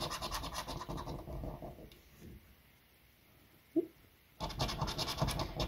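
Lottery scratch card being scratched off with quick repeated rasping strokes, close and fairly quiet, pausing in the middle with a brief tap before resuming.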